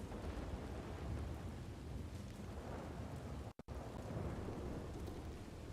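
Rain pours steadily with deep rumbling thunder in the Red Dead video game, a dense continuous wash broken by one brief dropout, with no voices.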